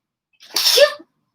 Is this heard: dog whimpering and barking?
no